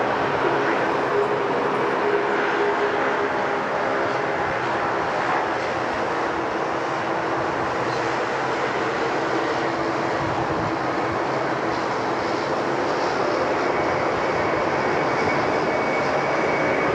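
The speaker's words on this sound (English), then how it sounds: "Qantas getting underway here on runway 34 left" A Qantas airliner takes off on runway 34 left at Sydney Airport, its engines a loud, continuous broadband roar holding steady throughout.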